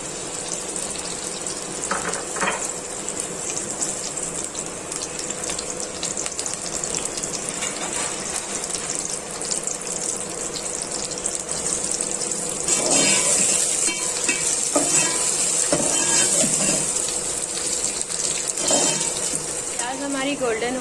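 Onions frying in a cup of oil for chicken biryani, a steady close sizzle throughout with occasional stirring clatter, growing slightly louder toward the end.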